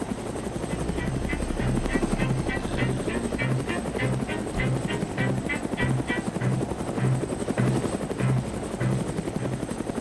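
Helicopter in the video game Arma 3, a steady rhythmic rotor thump with a whirring turbine layer, loud and close as if heard from the cabin, running continuously for the whole stretch.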